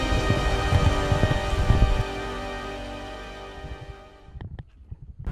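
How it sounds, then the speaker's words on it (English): Rain falling at dawn on Fernando de Noronha: a steady, dense hiss of drops on surfaces, loud at first and thinning toward the end, with no one speaking. "but now it started raining, so I think I'm heading back."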